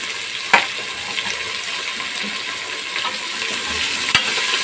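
Onions frying in oil for methi mutton curry, a steady bright sizzle with a few soft clanks of the spoon stirring the pan, close and without talk.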